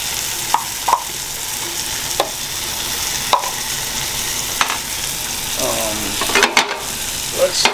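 Mushrooms and garlic fry in a hot pan with a constant sizzle, broken by occasional sharp taps and scrapes of a spoon stirring, all close and fairly loud.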